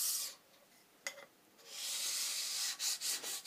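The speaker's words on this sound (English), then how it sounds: "More careful stoning this time." A sharpening stone rubbed over a metal lathe cross slide to take off burrs, giving close, soft rasping strokes: a brief pair of scrapes early on, then a long sustained rub breaking into several short strokes.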